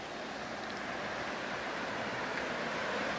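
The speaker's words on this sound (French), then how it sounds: "avec les cascades" Rushing water from waterfalls in a countryside landscape makes a steady, even hiss, soft and distant, with no breaks over the few seconds.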